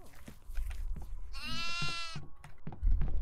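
Goat in the horror game Devour lets out a single loud, wavering bleat amid scattered thumps and footsteps.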